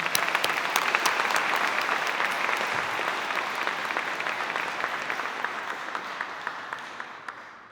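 An audience at an awards ceremony gives a sustained round of applause for the 2024 awardees, thick and even clapping that slowly thins and fades toward the end.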